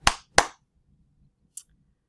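Two sharp hand claps ring out close together, followed after a pause by a faint, brief snap.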